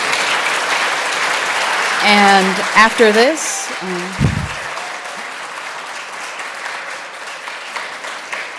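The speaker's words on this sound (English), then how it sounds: "can we get one more round of applause for Trey?" An audience at an honors conference applauds a presenter; a voice speaks briefly over the start, then a broad wash of clapping continues at moderate loudness, fading slightly toward the end.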